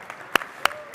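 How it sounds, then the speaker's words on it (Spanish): A few sharp, separate claps ring out at an award ceremony welcoming an honored agronomist, three evenly spaced hits over a quiet room tone. "bienvenido y muy aplaudido, ingeniero agrónomo Juan Bautista Rayo"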